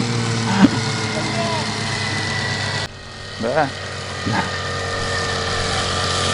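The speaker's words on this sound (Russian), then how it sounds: "А вот моторка идет. Наш Николай, сосед, на ветерке." An old Veterok outboard motor drives a boat on the water, giving a steady, moderately loud engine drone throughout, while people talk over it.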